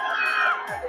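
Dense, noisy crowd packed at the Jubilee Park entry gate during Founder's Day celebrations in Jamshedpur, a steady roar of many voices with children shouting close by.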